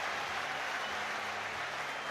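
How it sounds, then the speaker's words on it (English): A football crowd at a Chelsea versus Tottenham club friendly cheers and applauds for Kai Havertz, a dense, steady roar of clapping and shouting from a large crowd. "The biggest cheer of the night goes up when Kai Havertz's name is mentioned."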